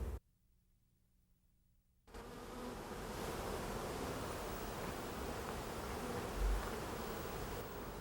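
Honeybees buzzing in a dense, steady drone that swells in abruptly after a brief quiet start and stays loud and continuous.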